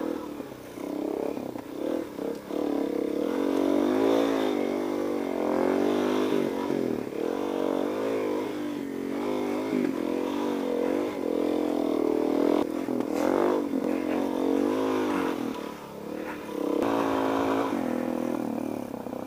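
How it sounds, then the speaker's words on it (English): A supermoto motorcycle engine revs repeatedly up and down close by, rising and falling whines with brief dips between pulls, and no talk over it. "That is why it's awesome to have a supermoto."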